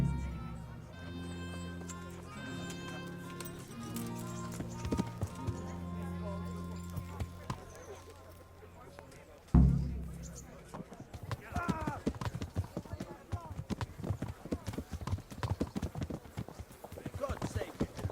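Horse hooves clop faster and faster in the medieval video game Kingdom Come Deliverance, starting after a burst of music and a sudden thump and running as a quick rhythmic gallop to the end.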